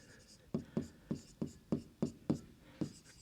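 Chalk or marker tapping and scratching across a classroom board during a maths lesson, about nine quick, evenly spaced strokes, close and fairly quiet.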